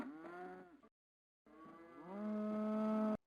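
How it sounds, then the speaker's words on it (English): Cattle in the Settlement Survival video game moo twice, a short low call then a pause and a longer, rising, drawn-out moo, clear and close. "Cows, we're still not producing much yet."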